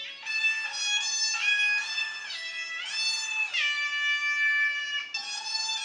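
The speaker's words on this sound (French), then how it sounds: "cette musique de petits chatons qui enregistrent un disque avec leur voix criarde" High, squeaky kitten-like meows sing a melodic line in a tune, with bright harmonic notes that rise and fall in sustained phrases and short gaps, loud and alone with no talking.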